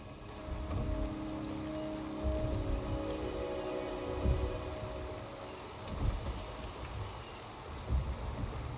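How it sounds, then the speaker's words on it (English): Rain falls in the video game Wuthering Waves, a soft steady hiss of drops with low rumbling swells recurring every couple of seconds, quiet and continuous with no voices. "The rain is subsiding, and the sky will soon clear."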